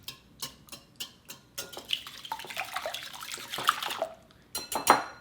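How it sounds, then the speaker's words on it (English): Five eggs whisked in a medium bowl: a run of quick, light taps against the bowl, then a busier wet swishing and clinking that speeds up and stays close. "I have a medium bowl here with 5 eggs, and I'm just gonna give these a good whisk."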